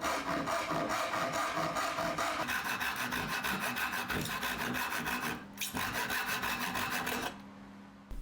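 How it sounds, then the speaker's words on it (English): A handsaw cutting through wood to square up a cut while building a drill mobile base, in fast, even back-and-forth rasping strokes, loud and close, slowing and breaking off near the end. "I'm going to mark out the bits I want to remove and get them taken off with the handsaw."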